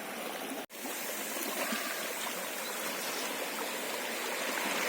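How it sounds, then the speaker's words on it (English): A river flows as a steady, close, full-bodied rush of water with fine trickling texture, continuous apart from one brief cut near the start. "Love this river."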